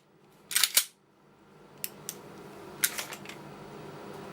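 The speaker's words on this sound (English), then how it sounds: "I just kicked the tripod by accident" A sudden clattering knock of a camera tripod being kicked, followed by a few lighter rattles and ticks in a quiet room.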